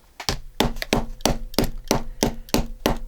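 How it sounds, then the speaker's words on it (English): Repeated sharp pounding strikes, about ten evenly spaced hammer-like knocks, loud and close with no talking, as magnets are hammered into the edges of a small paper flap. "So I go ahead and I pound them down closest to the edges."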